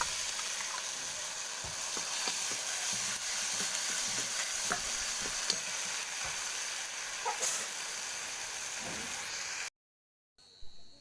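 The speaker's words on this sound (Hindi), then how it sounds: "सुरसु लहसुन सुखा मिर्च आउ प्याज गुटे आटा मसला दे दूचे। आउ बहुत दिन पर छती खावा लगी मिली। आटा मसला के भल से भाजी देमा।" Masala with garlic, dried chili and onion frying in a wok, a continuous close sizzle with intermittent stirring clicks and scrapes, then a sudden cut to near silence near the end.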